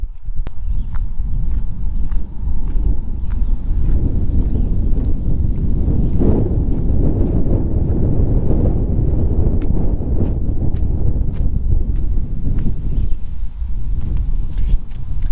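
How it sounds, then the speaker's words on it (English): Strong wind buffets the microphone outdoors in a small Maine town near the St. John River, a loud, continuous low rumble with gusts that swell and ease, plus faint scattered clicks and footsteps. "I'm sure you can hear it's a little bit windy."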